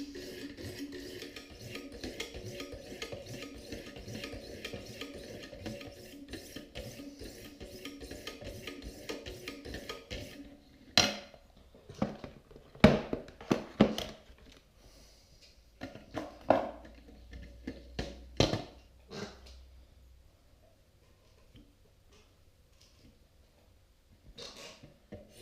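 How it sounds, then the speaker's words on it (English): A knife blade is drawn across Wicked Edge sharpening stones in a steady rasping stroke rhythm, then the strokes break into slower, scattered scrapes and light taps, close and fairly quiet. "As we polish out and remove the scratches from the previous stone, you'll start to feel it, you can hear it, it takes on a different sound"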